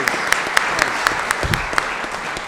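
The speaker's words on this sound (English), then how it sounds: "big applause" An audience at a celebration quiz game breaks into applause, a steady wash of clapping with a regular run of sharp, louder claps standing out close by.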